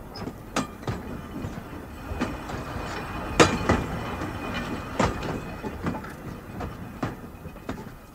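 A train rolls past a level crossing in a 1950s radio play effect, with a rhythmic clatter of wheels over rail joints and sharp periodic clanks, moderately loud and unbroken, with no voices.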